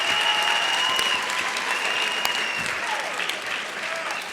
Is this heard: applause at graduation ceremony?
yes